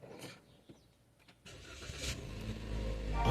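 A car engine in Saudi Arabia cranks and catches after a few quiet clicks and knocks, then settles into a growing, steady rumble that gets louder toward the end.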